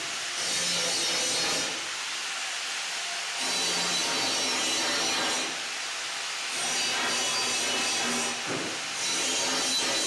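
Hand scraping on the metal guideway segments of a grinding machine under repair: long, harsh rasping strokes, loud and close, repeated in several passes separated by short pauses.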